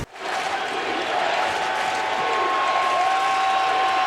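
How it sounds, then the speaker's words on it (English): Football stadium crowd at a 2006 NFL game in Tennessee cheering after playoff-related scores are announced, a broad steady roar that swells and holds, heard from a distance with no talk over it. "Listen to this crowd."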